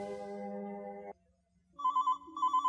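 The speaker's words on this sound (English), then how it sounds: "Just then, the telephone rang." A telephone rings indoors in a narrated story: after a pause, a few clear electronic ringtone tones sound, loud and close.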